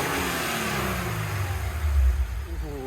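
A 2022 Subaru BRZ engine with upgraded catback exhaust and intake revs up steadily on a dyno, its pitch climbing and throaty intake roar swelling close by, then easing back slightly near the end.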